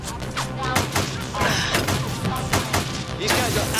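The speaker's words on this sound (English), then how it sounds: "Grand Theft Auto? I'll stop shooting in a minute." Dense, continuous gunfire from Grand Theft Auto, many overlapping shots and thuds in a chaotic barrage, loud throughout, with a voice talking over it.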